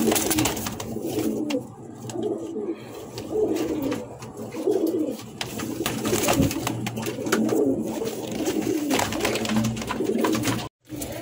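Coloring golla pigeons, a running pair, coo steadily and softly up close, their low murmuring calls repeating and overlapping throughout with no talking.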